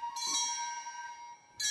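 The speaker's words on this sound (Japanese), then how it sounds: "鐘は吊るして鐘すりで叩きます。" A hanging kane gong from Kyoto's Gion Festival music is struck with a striker, giving a bright metallic clang with a long, steady ringing sustain before a second strike lands near the end.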